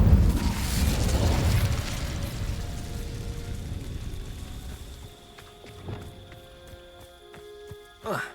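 Incendio fire spell cast in Hogwarts Legacy: a loud whooshing burst of flame that fades over a few seconds, followed by a few faint metallic clicks and a small pop near the end, with no voices.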